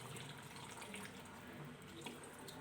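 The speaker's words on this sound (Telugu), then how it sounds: "ఇప్పుడు మనం ఏం చేయాలంటే వాటర్ కొద్దిగా యాడ్ చేయాలి," Water is poured into a simmering country chicken curry with moringa drumsticks, making a faint, continuous running trickle like a tap stream, with no voices.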